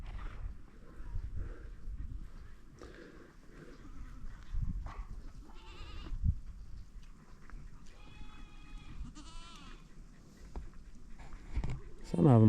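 Spanish goats bleat now and then in a farmyard pen alongside Mashona heifers, mixed with shuffling, movement and occasional voices nearby.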